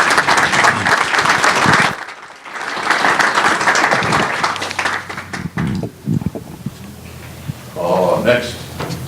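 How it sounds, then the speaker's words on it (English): Crowd applause at a Chino city council meeting, loud bursts of clapping that briefly drop out, resume, then fade into scattered claps as people start talking. "have a big round of applause"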